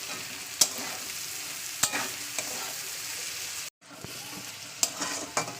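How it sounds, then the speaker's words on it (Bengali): Food frying in a wok is stirred steadily, with a constant sizzle broken by sharp utensil scrapes and clicks against the metal, close and alone with no voices. "চলুন এবার ভালো করে নাড়ানাড়ি করে নিলাম"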